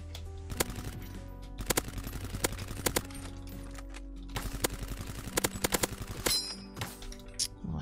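Gunfire in the first-person shooter Krunker.io, with shotguns among the weapons, crackles in sharp repeated bursts and single shots, loud and close and irregularly spaced.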